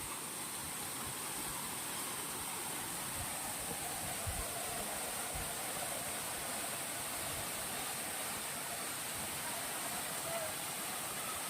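Arvis Falls, a waterfall in Lagayan, La Paz, Abra, pours as a constant dense rush that stays steady and loud throughout, with a couple of brief low thumps near the middle.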